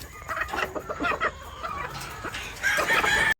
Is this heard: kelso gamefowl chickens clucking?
yes